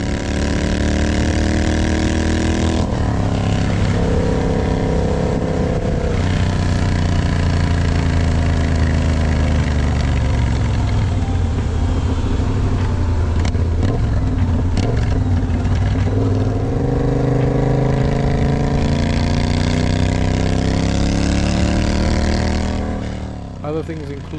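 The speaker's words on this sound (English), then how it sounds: "1200cc parallel twin motorcycle. It's got 6 speeds." A Triumph Bobber with a 1200cc parallel-twin engine and six-speed gearbox rumbles loudly and continuously while riding, its throbbing note rising and falling through gear changes, with a voice talking over it.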